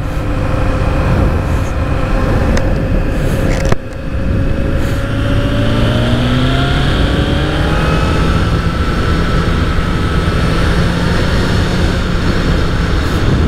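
A powerful new motorcycle rides and revs loudly up close, engine pitch rising and falling through repeated gear changes with a brief dip before pulling hard again.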